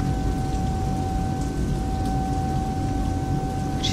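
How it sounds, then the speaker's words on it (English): Rain pours down on the fuselage of a eurofly Airbus A320 in flight through cloud, heard from inside the cabin as a dense, steady roar with a constant tonal hum beneath it. "actually the rain pouring down on the aircraft,"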